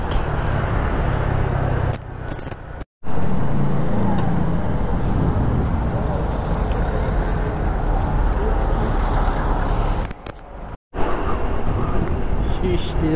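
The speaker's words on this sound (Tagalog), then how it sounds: "Traffic." Loud, steady road traffic noise with heavy engine rumble, as from cars and buses nearby. Two short dropouts break the continuous roar.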